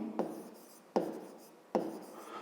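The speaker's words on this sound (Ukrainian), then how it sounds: "Давайте запишемо це." Pen or chalk writing down a math solution, three short scratchy strokes spaced under a second apart, close and fairly loud.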